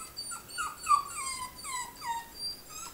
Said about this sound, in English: Meet Lila, a timid 20-pound dachshund, the apple of her owner's eye.